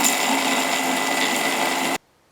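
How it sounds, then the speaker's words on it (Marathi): A kitchen mixer grinder whirs steadily at full speed while blending a peanut chutney of chillies, garlic, ginger, curd, sugar, salt and water, then cuts off abruptly near the end, leaving near silence. "चला, आता हे मिक्सरमध्ये छान वाटून घेऊयात."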